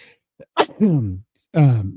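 A single close sneeze bursts out alone, then a voiced exclamation follows, with no other sound around it.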